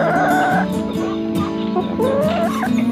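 Chickens clucking nearby in short, repeated bursts, with a steady background of farmyard noise and some mixed sounds.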